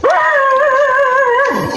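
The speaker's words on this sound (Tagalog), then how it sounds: "Magandang aso, magandang aso." A dog out in a mountain forest lets out a loud, close, drawn-out howl that rises sharply, wavers on a sustained pitch, then tails off into a short falling whine.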